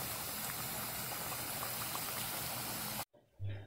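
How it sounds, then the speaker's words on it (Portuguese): Sweet potato frying in a pan, giving a steady, dense sizzle for about three seconds before cutting off abruptly, followed by brief faint handling noise. "eu estou fritando batata doce"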